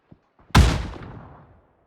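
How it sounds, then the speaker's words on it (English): A grenade explodes in the PUBG battle royale game: a single sharp, loud blast with a deep boom that rolls off over about a second, preceded by a couple of faint soft thuds. "the nades are in fact coming out"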